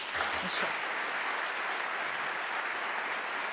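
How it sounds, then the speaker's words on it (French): An audience applauds at a human rights award ceremony, a dense, steady wash of clapping that carries on evenly throughout with no voices. "I invite the audience to join me in applauding all three of you"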